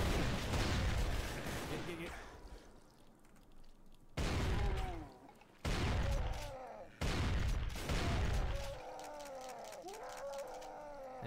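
Grenade blasts in the Doom video game: several heavy, sudden explosive bursts in a row, each booming loud and then trailing off, with game noise between them and a voice talking at times.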